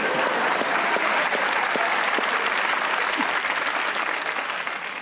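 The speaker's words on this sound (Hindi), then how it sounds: "एक बार इमामुल हक के लिए तालियां हो जाए।" Studio audience on a comedy talk show breaks into loud, sustained applause for a cricketer, dense clapping filling the whole stretch with a faint crowd murmur beneath.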